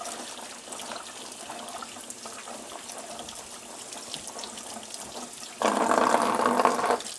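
Tap water runs steadily into a sink while potatoes are washed, a soft, continuous trickle that swells into a louder gushing stream near the end, with no talking.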